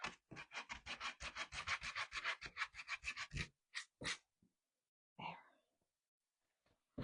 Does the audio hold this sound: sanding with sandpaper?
yes